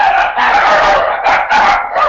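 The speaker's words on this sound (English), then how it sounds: "Sorry, my dogs are getting crazy." Several dogs bark and yip excitedly indoors in loud, overlapping bursts that fill the whole stretch, with brief dips between volleys.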